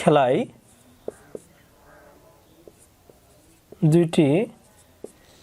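Someone writes out a math solution by hand, with a few faint scratching strokes and light taps between two short bursts of speech.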